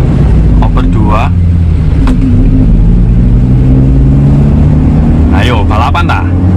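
Toyota Kijang LGX 2.0 EFI 2002 engine running loud and steady with a low mid-range drone, rising in revs, while people talk over it throughout.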